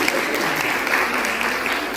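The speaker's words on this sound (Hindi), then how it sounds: "ताली बजाइए।" An audience claps at a Holi celebration gathering, a sustained even burst of many hands applauding, close and steady for the whole stretch with no voices on top.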